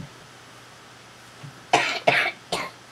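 A child coughs three times in quick succession, close and fairly loud, after a brief faint sound in an otherwise quiet room.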